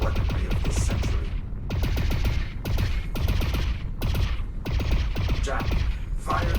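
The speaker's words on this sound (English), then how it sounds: "fire continuously at this last target. Make no consideration for accuracy." Ionized bolt weapon from the game Lone Echo II firing continuously in rapid bursts of sharp, crackling shots, loud and close, with brief pauses between volleys.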